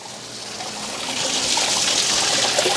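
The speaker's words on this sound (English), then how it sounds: "You can hear the water." Water drains steadily into a laundromat floor drain with a continuous rushing trickle that swells slightly louder as it goes on.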